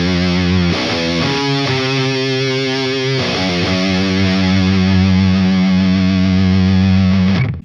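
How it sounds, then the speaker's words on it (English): Metal electric guitar through a REVV amplifier with a Big Muff fuzz pedal, playing heavily distorted single notes with long buzzy sustain, a few quick note changes early on, then one held note ringing loud and close. "you have the sustain from the Big Muff and that fuzzy bzzz"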